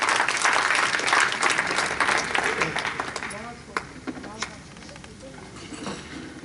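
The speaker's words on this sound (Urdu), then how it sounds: "جناب ارشاد علی خان آپ کی تالیوں کے ساتھ" Audience applause at an Urdu literary evening as a ghazal performer is welcomed, a full, steady wash of clapping that slowly thins into scattered claps, with voices underneath.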